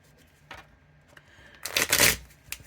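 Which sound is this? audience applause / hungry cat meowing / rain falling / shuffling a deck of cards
shuffling a deck of cards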